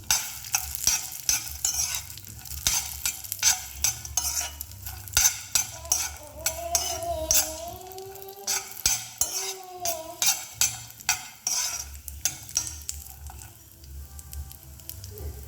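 Cashews fry in a pan for dry fruit laddu, a constant close sizzle broken by rapid, rhythmic scraping and clinking of a spatula stirring them, with no one talking.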